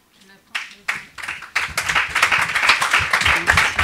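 Scattered single claps from the audience at a panel of journalists discussing the war in Ukraine quickly swell into dense, sustained applause that keeps building through the end.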